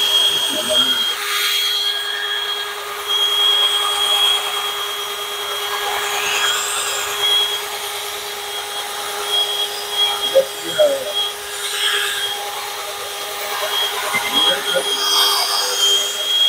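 A drill-driven polishing ball spins against an aluminum wheel on a square-body Chevy hot rod, a steady whirring drone with a constant high tone running throughout, while someone talks intermittently over it.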